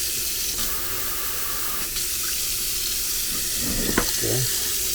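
Water sprays steadily from the fan-pattern sprayer of a newly installed kitchen faucet into the sink, a constant close hiss with a few faint clinks near the end.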